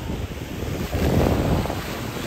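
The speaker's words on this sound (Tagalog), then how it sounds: "Malakas na yung alon." Steady roar of strong ocean surf and rushing wind at a nature park shoreline, broadband and continuous, swelling louder in the middle before easing slightly.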